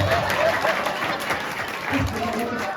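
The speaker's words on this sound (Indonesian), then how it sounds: "Nah, tepuk tangan untuk Satya dulu." Audience at a Balinese comedy show applauds a young participant, a short burst of clapping mixed with crowd noise and a speaking voice running underneath.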